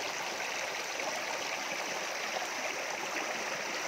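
Water rushes continuously in a broad, steady roar from Dabarkhola Waterfall in Badamba, Cuttack, with no voices.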